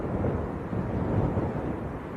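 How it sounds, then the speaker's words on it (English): Strong gusty wind buffets a microphone at Leeds Bradford Airport, a loud continuous broadband roar with rumbling low end and no speech over it. "It's very windy indeed."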